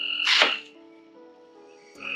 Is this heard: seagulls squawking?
no